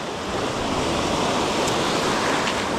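Choppy sea surf heard from a fishing spot forms a constant, dense roar of breaking water and wind, loud and unbroken, with no voices.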